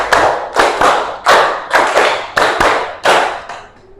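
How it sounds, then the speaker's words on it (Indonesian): A school class claps together in a rhythmic pattern, sharp unison bursts of many hands at an even pace, loud and close, fading after the last clap with no talk. "Tepuk 5 2 kali."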